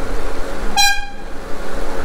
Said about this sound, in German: Und eine Hupe haben wir auch.